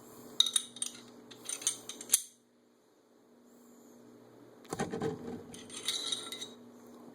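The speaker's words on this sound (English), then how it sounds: "Remove the barrel, just lifts straight out." Metal parts clicking and scraping as the barrel is lifted straight out of a Taurus PT809C pistol during a field strip, a few short bursts of handling noise close by over a steady low hum, with a quiet pause in between.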